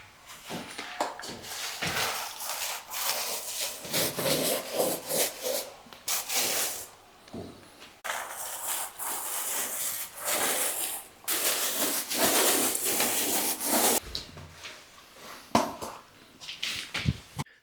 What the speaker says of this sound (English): For sanding it, what I use is my Merkur sander, obviously everything is dustless then, and then an 80 grit sandpaper pad